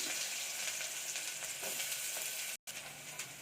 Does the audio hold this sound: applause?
no